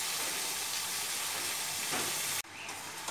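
Ash gourd being stirred with spices in a hot frying pan for a Bengali fish-head dish, a steady broadband sizzle with scraping stirs, loud and close, briefly cut near the end before resuming.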